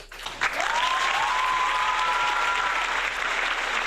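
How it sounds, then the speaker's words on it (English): A town hall meeting audience applauds its leaders with a full, sustained round of clapping that swells in quickly and holds steady; a faint tonal whine sits beneath it. "Please give them a round of applause"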